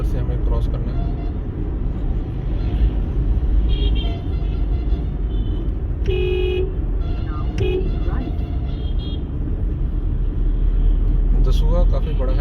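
Slow traffic creeps through the Dasuya market: a steady engine and road rumble runs throughout, with a couple of short horn honks around the middle. A voice talks over it.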